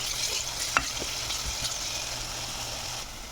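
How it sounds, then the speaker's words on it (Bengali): Sliced onions frying in a pan with salt while a spoon stirs them: a steady close sizzle throughout, with a few sharp scrapes and clicks of the utensil against the pan. "এখন পরিমাণ মতো লবণ দিয়ে দিচ্ছি যাতে পেঁয়াজ তাড়াতাড়ি মজে যায়"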